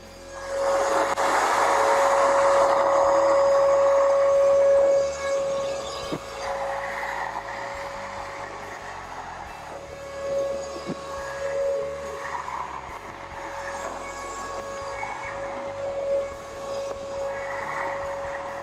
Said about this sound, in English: go ahead and use the wet and dry to pick up the solution from the floor